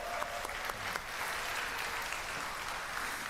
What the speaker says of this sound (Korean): 박수 한번 해주시면 좋을 것 같습니다